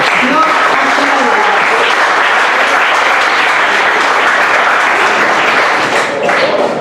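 A church congregation claps together during a Spanish-language sermon, a loud, even wash of hand clapping that fills the room continuously, with a faint voice beneath it.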